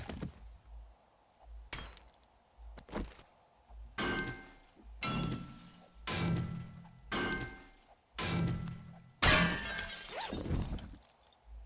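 Repeated crunchy breaking hits of bone being smashed in the video game 7 Days to Die, about eight separate strikes spaced roughly a second apart, sharp and stony, getting louder toward the end.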